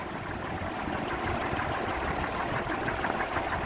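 An AC DC ceiling fan running on battery power at low speed, a steady broadband whirring hum with a faint rhythmic flutter, continuous and moderately loud, with no voices.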